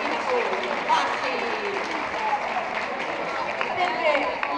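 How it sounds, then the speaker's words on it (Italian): Audience applause at a Bookcity event, a dense continuous patter of many hands clapping at moderate distance throughout, with voices mixed in. "Ma sì, applauditevi da soli!"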